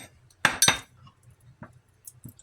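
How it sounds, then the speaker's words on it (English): A knife clinks against a plate and bread crust as butter is spread, two sharp close taps followed by a few fainter scrapes and small clicks in a quiet kitchen. "and a knife. Time to put some butter on that bread."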